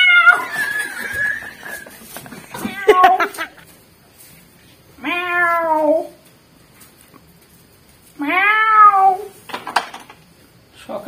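A house cat gives two long, drawn-out meows, one mid-way and one near the end, each rising then falling. Both are close and clear, and a person talks loudly before them.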